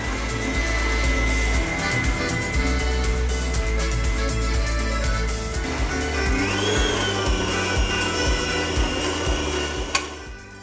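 An electric mixer runs at low speed through cocoa, flour and salt, giving a steady whirring motor hum that shifts pitch partway through before a sharp knock near the end.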